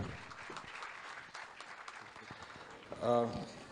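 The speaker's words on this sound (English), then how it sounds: "Huge round of applause, everyone." Quiet audience applause at a medical career session, a soft wash of scattered claps that fades, followed by a brief voice at the end.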